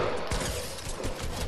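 Rapid gunfire crackles in a dense, loud burst during a 1v1 video game match, filling the whole moment with overlapping shots and a faint voice underneath.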